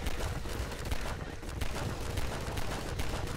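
Rapid gunfire from the video game Garry's Mod crackles in steady repeated shots throughout, loud and busy, with a voice occasionally heard in the mix.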